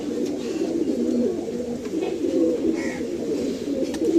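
A loft full of pigeons cooing together, a continuous low, throaty burble of many overlapping calls, close by and steady throughout.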